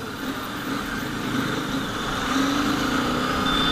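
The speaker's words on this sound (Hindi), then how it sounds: "एक तो इस बाइक की साउंड यार, मतलब पैरेलल ट्विन की साउंड" Royal Enfield Continental GT650 parallel twin motorcycle engine running on a road near Mussoorie, a steady continuous drone that swells slightly in loudness, with wind rush and no talk.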